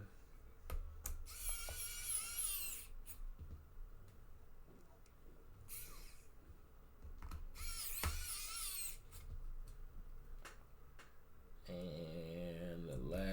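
Small screws are driven back into an Alienware 14 laptop during a battery replacement with a whirring electric screwdriver in short bursts, punctuated by faint clicks and taps, quiet and close-up.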